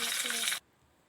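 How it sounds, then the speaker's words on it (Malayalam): Sugar syrup poured onto frying custard flower sweet rolls gives a loud, dense sizzle that cuts off abruptly after about half a second into near silence. "ഇനി ഇതിൻ്റെ മുകളിലേക്ക് നമ്മൾ നേരത്തെ പ്രിപ്പയർ ചെയ്ത് വെച്ചിരുന്ന ഷുഗർ സിറപ്പ് കൂടി ഒന്ന് ഒഴിച്ചു കൊടുക്കാം"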